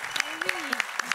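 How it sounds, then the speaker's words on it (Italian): Audience applause at a Corsican culture and heritage event, short bursts of clapping heard under continuous talk from a presenter. "Oh, on peut applaudir"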